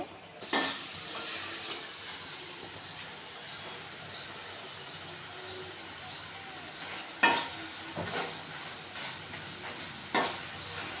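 Nimki, a crisp Bengali fried dough snack, frying in hot oil gives a steady, soft sizzle, broken by three sharp metal utensil clinks near the start, middle and end.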